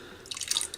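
Lye water for cold process soap trickles down the neck of a stick blender, a brief close splash and drip of liquid lasting under a second with no talk.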